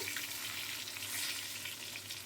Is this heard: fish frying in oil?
yes